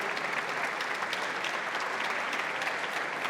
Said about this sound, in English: please give them a very big applause